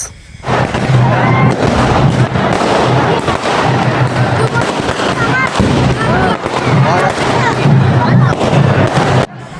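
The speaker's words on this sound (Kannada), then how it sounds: "ಪಟಾಕಿನ ಹೊಡೆದ್ರು ಹೊಡೆದ್ರು ಹೊಡೆದ್ರು" Dense, rapid bursts of firecrackers crackling and popping continuously at a festival, loud and close, with a roaring volley that barely lets up.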